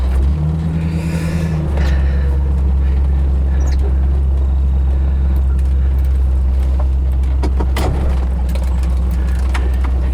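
A 1932 Ford three-window coupe with a small-block Chevy V8 and automatic transmission drives along. Its engine makes a steady, loud, low drone that rumbles continuously with minor shifts in pitch.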